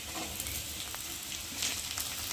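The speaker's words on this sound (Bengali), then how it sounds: "আলুটা অনেকটাই ভাজা ভাজা মতো হয়ে গেছে দেখতে পাচ্ছ" Potato pieces frying in a pan give off a steady, even sizzle with faint crackles, close and continuous for a couple of seconds, no voices.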